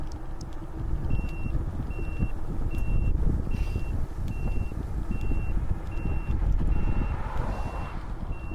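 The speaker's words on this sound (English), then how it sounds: "I am so glad my turn signal has a beep." A Velotric Breeze e-bike's turn signal beeps in a steady, evenly spaced series of short high tones, about a dozen in a row, over wind rush and road noise while riding.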